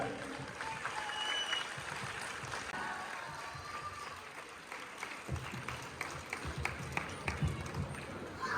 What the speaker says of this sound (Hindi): जोरदार तालियां बजती रहनी चाहिए इन क्वींस के लिए।